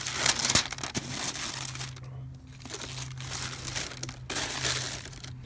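Paper from an Air Jordan Retro 2 "Wing It" shoe box crinkles and rustles close by in bursts of handling, with a quieter pause in the middle before the crumpling picks up again.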